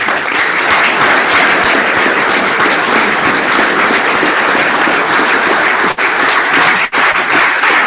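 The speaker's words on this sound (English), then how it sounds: "So you got to stand up and let's give them an applause." A banquet crowd gives loud, sustained applause, dense clapping filling the room steadily with a couple of brief dips near the end.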